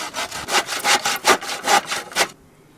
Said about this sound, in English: for the moment a hand saw's just fine